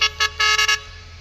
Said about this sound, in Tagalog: Tatat na yung busina niya.